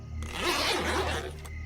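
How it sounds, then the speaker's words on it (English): A tent zipper is drawn steadily open in one long pull lasting over a second, close and fairly loud, with no talking. "I heard the sound of the zipper to the tent zipping down."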